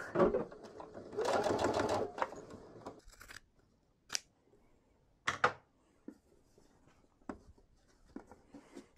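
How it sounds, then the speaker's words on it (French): A sewing machine stitches fabric strips for a large tote bag in short bursts, a fast whirring run followed by quieter clicks and brief snips, faint and close. "je la mets au bord et je vais piquer 1 cm."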